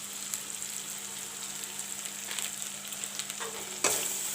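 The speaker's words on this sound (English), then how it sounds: "brown the masalas nicely" Dhania and jeera powders fry in a pan with a soft, steady sizzle that stays low and even. A faint hum runs underneath, and a brief louder scrape or clatter comes near the end.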